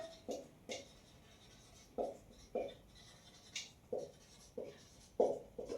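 A pen writes on paper in short, separate bursts of strokes, about ten distinct scratches in a steady rhythm, close and fairly quiet, with no talking, while elimination-method working is set down for a Class 10 maths equation.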